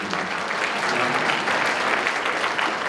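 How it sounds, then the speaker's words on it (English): Applause from an audience at a talk, a steady dense wash of clapping that stays loud and even throughout with no voices over it. "You can applaud."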